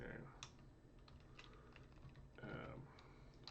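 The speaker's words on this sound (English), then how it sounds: "Why am I typing badly?" Irregular clicking of keys on a computer keyboard, soft and close, in uneven bursts with brief pauses.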